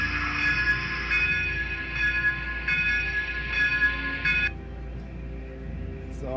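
A Broadway Limited Imports N scale USRA light Mikado steam locomotive, Southern Railway #4501, with Paragon 4 sound, chuffs steadily and loudly while a sustained whistle-like tone rings over it, then cuts off partway through as the rhythmic chuffing continues.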